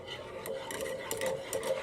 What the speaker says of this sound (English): A little stir.